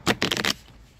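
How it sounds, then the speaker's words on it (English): A deck of tarot cards being shuffled by hand, a few quick riffling bursts close up, then settling into quiet. "I just randomly pulled them from the deck and randomly gonna shuffle."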